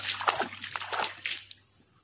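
Water splashing and sloshing in short bursts as a low-cost automatic water feeder on a dairy farm is emptied by hand, close and fairly quiet, fading out at the end.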